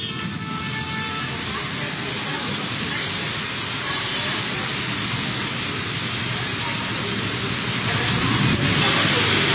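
Heavy rain pours during a thunderstorm on a Kolkata street, a dense and unbroken roar that holds steady throughout and grows slightly louder near the end.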